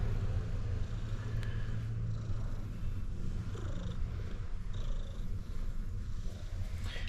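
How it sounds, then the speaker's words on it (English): An Egyptian street cat purrs close up in a steady, rumbling low drone that pulses gently with each breath, quiet and uninterrupted. "here's a video of Miss Kermit the cat"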